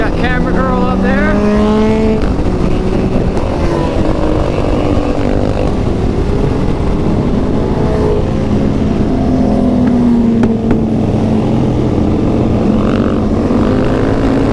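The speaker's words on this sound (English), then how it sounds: "Starting to get overtaken here by the sport bikes." A group of sport motorcycles riding and overtaking on a road at Centralia, Pennsylvania, engines rising and falling in pitch as bikes pass close by, loud and continuous under heavy wind rush.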